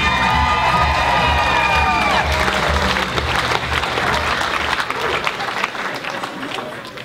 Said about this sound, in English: Let's have a nice round of applause for our bridal party.